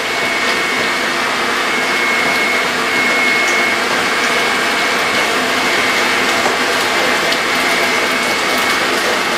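An electric mixer beats cream cheese pound cake batter with a loud, unbroken motor whir. The drone holds steady throughout at close range, with light rattling mixed in.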